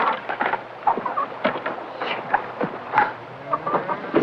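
Hens cluck in a farmyard in a 1973 Western film, giving a steady stream of short, overlapping clucks and squawks at close range over a faint background hum, with no talking.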